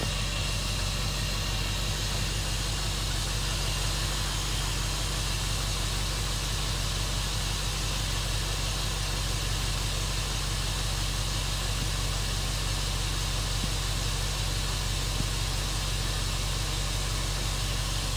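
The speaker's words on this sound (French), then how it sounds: "il est vachement silencieux ce moteur" A Jeep engine idles steadily and quietly, a constant low hum with a faint mechanical hiss layered over it, unchanging throughout and with no talking.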